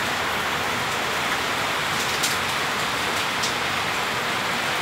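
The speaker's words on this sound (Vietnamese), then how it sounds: "Lúc này vô mà mưa rồi nha các bạn." Heavy rain pours steadily outdoors at night in the countryside during a snake-trapping trip, a dense, even hiss filling the whole stretch with a couple of faint sharper spatters and no voices.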